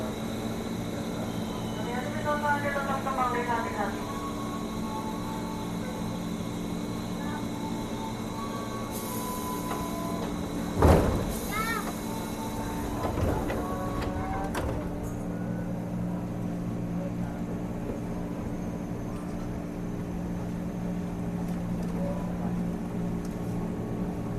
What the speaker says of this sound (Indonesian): Ini sesaat lagi KRL seri JR 205 akan diberangkatkan dari jalur 1.